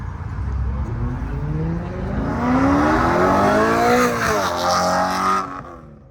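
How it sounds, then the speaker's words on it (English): A BMW revs hard at a car meet. The engine note climbs and falls in loud sweeping pitch, rising to a peak and then dropping away, over a constant rumble of the crowd and the surrounding lot. "It's BMWs, man. They sound pretty cool."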